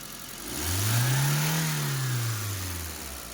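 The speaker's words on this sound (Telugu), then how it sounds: "ఇప్పుడు నేను బండి రేస్ చేస్తా" Second-hand car engine revved once while parked, rising from idle to a smooth, swelling drone that holds high and then sinks back toward idle.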